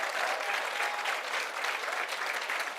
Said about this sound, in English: Let's hear a massive, massive cheer for them.